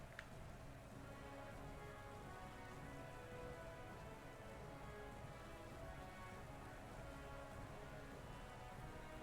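Rain weather effect in Pokemon Sword and Shield plays as a steady, even hiss of falling rain, moderately quiet and unbroken throughout, with no voices.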